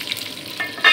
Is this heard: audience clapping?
no